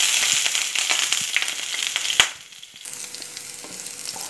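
Ginger and green chilies frying in coconut oil in a pan after mustard seeds have popped, giving a loud, steady sizzle with crackling pops, dipping briefly before resuming.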